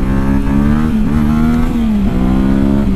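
Yamaha Tenere 700 motorcycle engine while riding on pavement at low speed, a steady loud droning hum with a slight rise and dip in pitch, continuous throughout with no talk.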